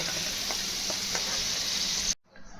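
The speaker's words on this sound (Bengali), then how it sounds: "ভালো করে লাল লাল করে ভেজে নেব।" Potatoes with salt and turmeric frying in oil, heard as a dense, steady sizzle close at hand with a few soft stirring clicks, cut off abruptly near the end.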